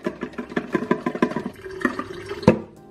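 Pre-rinse water is shaken and dumped out of a plastic film developing tank, a burst of rhythmic sloshing glugs and splashes into a sink, loud and close, ending with a final splash.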